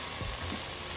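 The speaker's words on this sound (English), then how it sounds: "our pancetta is sizzling" Pancetta fries in a hot pan, giving a constant close, bright sizzling hiss with a couple of faint low knocks beneath it.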